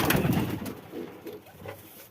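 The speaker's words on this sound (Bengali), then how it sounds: "অনেক পুরনো গিরিবাজ কবুতর" Old Giribaz pigeons in a home loft cooing, a close soft series of low throaty coos over about two seconds with no talking.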